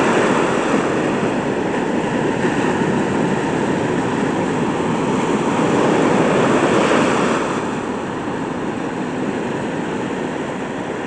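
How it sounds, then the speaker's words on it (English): Big ocean waves break and roll in a continuous roaring wash, with wind buffeting the microphone; the surf swells loudest around the middle, then eases slightly, and no one speaks. "Pretty big waves."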